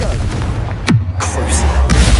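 A Confringo fire spell from Hogwarts Legacy bursts in a single loud, close explosion with a sharp swoop into a deep boom, followed by crackling flares and lingering rumble.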